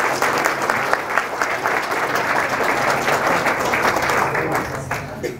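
Sustained audience applause at a beekeeping talk, steady dense clapping from a crowd filling the room at full volume for several seconds while a speaker is welcomed.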